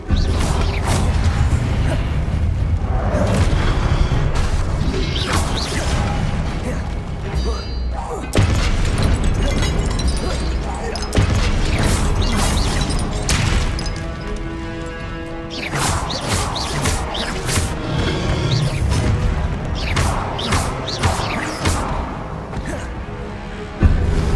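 Confringo blasting spells fired in the Hogwarts Legacy video game, giving loud, repeated booms and crashing bursts over a dense bed of rumbling game effects and creaking mechanisms throughout.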